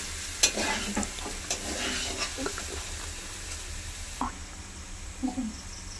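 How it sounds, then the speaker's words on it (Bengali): Spices, potatoes and peas frying and being stirred in a pan, a steady close sizzle with scraping stir strokes throughout. "আলুর সাথে আলু মটরের সাথে মশলাটা কষা হয়ে গেছে ভালোভাবে"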